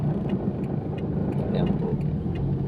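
Passenger jeepney engine running steadily nearby, a continuous low rumble with faint clicks on top and no breaks in level.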